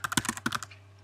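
Typing on a computer keyboard: a quick run of about a dozen close, crisp key clicks in uneven bursts, then quiet, with a steady low hum underneath.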